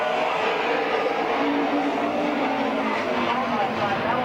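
Stock race cars roar side by side around the turns at Midvale Speedway, a dense sustained engine drone with tire noise, loud and continuous beneath an announcer's commentary.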